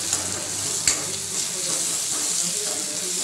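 Eggplant and potato sabzi is stirred in a hot pan, a continuous sizzle with soft scraping and one sharp clink of a spoon against the pan, close and moderately loud.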